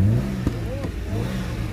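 A Daewoo Nexia 2 car with a six-cylinder engine idling and revving at a car market, a loud close engine drone with rising and falling pitch.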